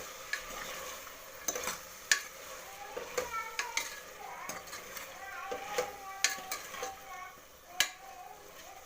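Raw peas and tomato stirred in a frying pan: a steady low sizzle carries a string of sharp clicks and scrapes from a utensil against the pan, close and moderately quiet, with no talking.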